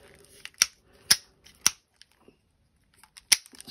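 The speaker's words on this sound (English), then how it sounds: "Let's take the drag off and see what the drag sounds like" A DWU fishing reel compared against a KastKing Valiant Eagle 2 baitcaster lets out a few sharp drag clicks, isolated ticks spaced irregularly with quiet gaps between them, close and crisp.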